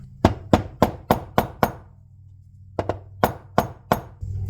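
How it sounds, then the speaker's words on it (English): Hammer strikes on a quad's starter during a no-start repair: about nine sharp metallic taps in two quick bursts of five and four, close and distinct over a low steady hum. "Make sure you grab an appropriate hammer."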